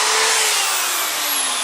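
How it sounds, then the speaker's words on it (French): An electric drill spins its bit, with a small piece of meat wrapped around it. It gives a loud, steady, high whirring whine that holds without a break, close up and alone. "pour le petit bout de viande autour de la mèche de la perceuse"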